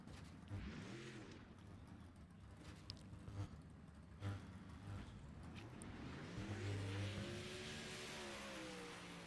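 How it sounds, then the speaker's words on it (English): Race car engine on a dirt oval screaming at high revs and bouncing off the rev limiter as the driver gets on the gas, a steady, distant, droning roar. "You hear it bounce off the rev limiter there as he gets on the gas"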